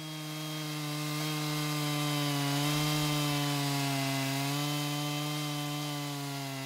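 A PortaMill PM14 chainsaw sawmill cuts through a log, a loud, steady, high-pitched chainsaw whine held continuously near the microphone with a slight dip in pitch midway.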